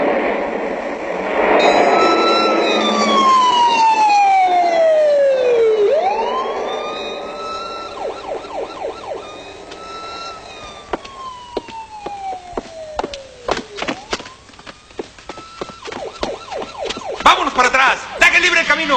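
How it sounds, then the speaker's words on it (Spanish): An ambulance siren sweeps up and down in long wails, then shifts to faster yelps, close and loud, with an urgent voice calling over a radio in the background. "Dejen el camino libre a la ambulancia."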